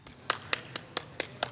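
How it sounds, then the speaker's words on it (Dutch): Six crisp, evenly spaced claps in a steady rhythm against a quiet background, given to celebrate a cup win. "Ja, dan moeten we even klappen, meneer."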